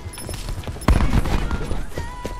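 Gunfire in the video game Black Ops 4, gun game mode, a sudden loud burst of rapid shots that erupts close and mid-clip and then trails into a rattling tail.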